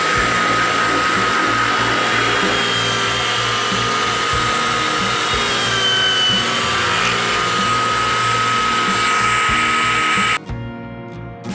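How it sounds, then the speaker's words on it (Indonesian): A small high-pitched drill whines steadily and loudly for about ten seconds while boring a coconut-shell ring, then cuts off abruptly, leaving quieter background noise. "Oke sahabat, langsung kita bor di sini."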